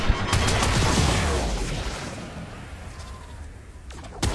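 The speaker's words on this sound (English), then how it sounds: "So it takes 4 shots of the Rubico." Rubico sniper rifle fired in the Warframe game during a solo Eidolon hunt, a loud sharp shot with a long booming decay, followed by a faint second crack near the end.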